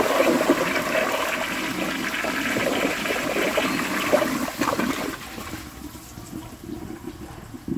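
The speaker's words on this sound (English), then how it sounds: "let's give this a flush and see how it does on tests" A 1953 Crane Santon flushometer toilet on a high tank flushes with a loud, close, roaring rush of water lasting about five seconds, then fading into a softer trickle and refill.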